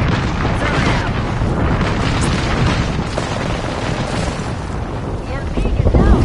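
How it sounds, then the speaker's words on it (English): In a combat video game, an airstrike unleashes a continuous roaring rumble of explosions, loud and dense for several seconds, with a voice speaking faintly under the blasts. "Airstrike"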